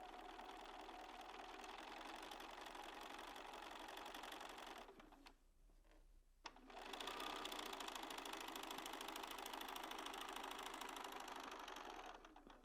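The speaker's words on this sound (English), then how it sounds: "line it up with the edge of the foot and sew down." A sewing machine stitching quilt pieces for an hourglass quilt, running steadily with a fast mechanical whir, pausing briefly in the middle before starting up again, close and fairly quiet.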